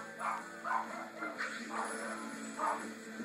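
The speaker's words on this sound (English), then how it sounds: "You might be hearing my dog barking in the background." A pet dog barks and yips somewhere in the house during a Thrillville gaming session, five or six muffled, moderately distant barks in an irregular series over faint background tones.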